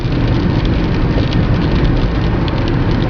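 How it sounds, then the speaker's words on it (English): Steady rain drums on a car while it drives along Interstate 40 in North Carolina toward Durham, a dense, continuous hiss and patter of drops over low road rumble, loud and close throughout with no talking. "Hopefully this rain will stop."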